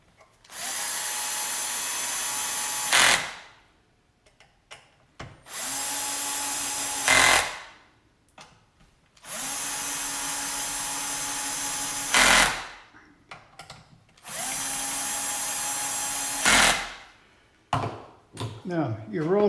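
A power driver drives screws into a Makita 9401 belt sander in four separate bursts of a few seconds each, whirring close and loud, then winding down, with quiet gaps between.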